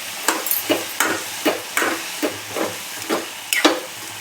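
Cowpea pods sautéing in a pan with salt and turmeric, a steady sizzling hiss broken by about ten regular scraping stirs, close and fairly loud with no talking.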